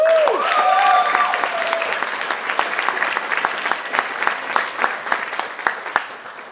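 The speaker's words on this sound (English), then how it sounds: "give a round of applause for Eddie Smith." Lively applause from an audience at an IGDA Toronto game developer night, with a whooping cheer at the start, then dense clapping that thins into scattered, sharper claps.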